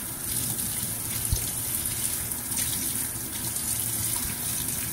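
Cold tap water runs steadily over a fish being rinsed clean in a kitchen sink, a continuous close hiss and splash with no talk.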